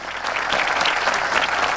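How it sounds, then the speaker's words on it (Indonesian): Audience applause at an anniversary celebration event in Indonesia, a dense, steady burst of clapping from a crowd filling the whole short moment, loud and close. "kita berikan tepuk tangan untuk kita semua yang luar biasa di pada pagi hari ini."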